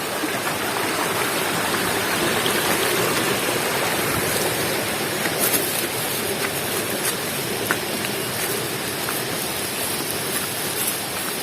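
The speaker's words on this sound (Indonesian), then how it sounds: "Melewati satu sungai pertama, satu sungai kecil." Small river crossed on a forest hike in a national park, water rushing steadily in a loud, dense, continuous wash close by, with no voices.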